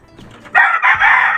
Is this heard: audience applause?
no